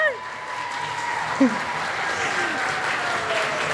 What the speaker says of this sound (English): Can we have a round of applause for our lovelies here?